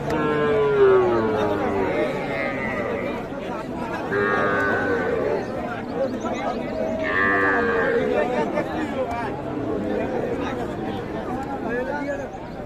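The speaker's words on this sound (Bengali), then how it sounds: "একেবারে গরুতে গরুময় হয়ে গেছে" Cattle low repeatedly across a crowded livestock market selling bulls and heifer calves, several moos rising over a steady din of people chattering nearby.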